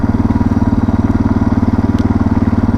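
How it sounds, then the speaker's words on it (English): A Suzuki DR650 motorcycle with a new exhaust idles with a deep, steady, low thumping exhaust pulse, close by and continuous, with no talking. "So this new exhaust sound is a lot nicer on my ears."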